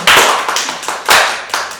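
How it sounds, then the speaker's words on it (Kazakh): Hands clap in a few loud, close bursts, roughly one every half second, sounding like a small group rather than a large crowd, with no talking over them. "Сондай ютуберлерге сіздер өздеріңіздің телефондарыңыздың алдында отырып бір шапалақ ұрып қойыңыздар."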